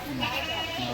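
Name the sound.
goat kids bleating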